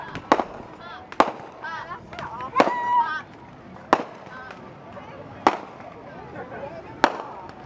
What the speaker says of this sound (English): There's fireworks over here.